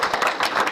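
A brief burst of clapping from a small group, dense and steady, with no voices over it.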